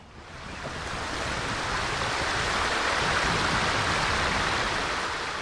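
Rushing water on the River Wye roars steadily nearby at a fast section before Bredwardine, a broad continuous wash that builds slightly, with some wind buffeting.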